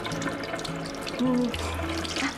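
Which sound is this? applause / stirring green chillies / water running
water running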